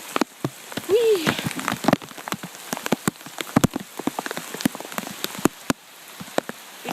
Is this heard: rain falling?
yes